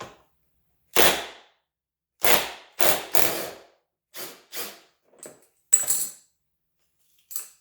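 An impact gun rattling off bumper lip bolts on a car, with several separate loud close bursts of hammering, some long and some brief, and silent gaps between them.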